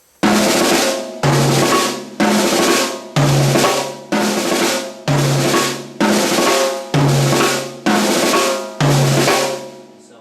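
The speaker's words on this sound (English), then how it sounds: "move fluidly back and forth between hitting the mounted tom and the floor tom so that it sounds like this" Nine quick six-stroke rolls on a drum kit in a steady rhythm, moving between a higher mounted tom and a deeper floor tom, played close with no voices.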